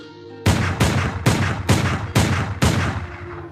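Six loud gunshots fire at a steady, unhurried pace, each a booming crack with a long, reverberant tail that carries into the next, and the last shot fades out alone.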